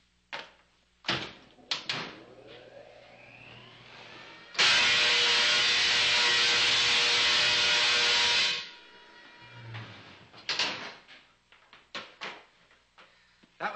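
A high-voltage electrical discharge of over a million volts roars as a loud, buzzing crackle lasting about four seconds, surrounded by scattered faint clicks and knocks before and after.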